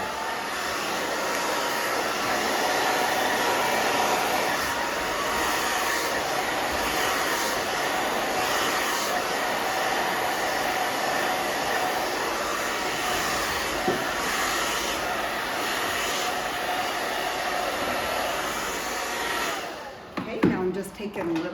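A hair dryer blows steadily and loudly while hair is round-brushed dry in short sections, a continuous airy roar that drops out near the end, with a voice briefly audible underneath.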